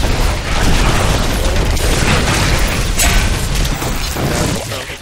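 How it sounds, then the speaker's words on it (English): Exploding Palm skill of a Monk detonating in Diablo 3, a loud sustained burst of booming, crackling explosion noise lasting several seconds, dense and full with no speech over it. "Exploding palm, really awesome."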